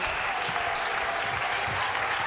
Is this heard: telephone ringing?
no